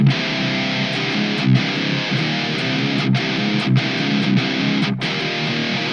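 Heavily distorted electric guitar plays a main riff slowly, a dense, loud wall of chugging tone broken by short rhythmic gaps and accents.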